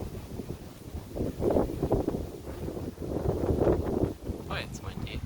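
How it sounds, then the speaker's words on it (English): Wind blows outdoors, gusting and rumbling against the microphone in uneven surges, with faint rustling and a brief voice near the end. "oh, it's windy."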